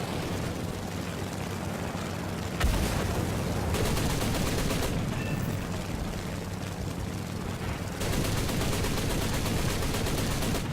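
Aircraft machine guns rattling in an air-combat video game, dense continuous bursts over a steady engine drone, with short pauses between volleys and one sharp impact near the start.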